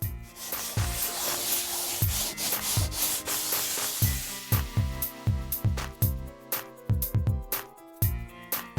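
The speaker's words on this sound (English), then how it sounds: "I'm just going to do a little sanding to smooth this out." Sandpaper rubs back and forth across a drywall patch in quick, rhythmic strokes, close up and steady, with no voices.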